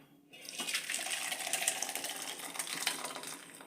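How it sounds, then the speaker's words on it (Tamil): Rasam poured into another vessel in a home kitchen, a continuous liquid splashing and trickling that starts abruptly and runs steadily for a few seconds. "வேறு ஒரு பாத்திரத்தில் போட்டுக்கிறேன்"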